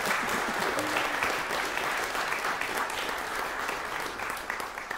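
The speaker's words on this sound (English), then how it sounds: "round of applause" An audience at a graduation oboe recital applauds the performer's family, a steady dense wash of clapping that fills the whole stretch and fades slightly toward the end.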